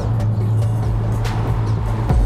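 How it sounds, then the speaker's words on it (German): A car speeds through Tokyo at around 120 km/h near a tuning meet, giving a continuous engine and road roar from inside the cabin with faint brief knocks. "Wir düsen hier gerade mit 120 km/h durch Tokio, das ist so heftig."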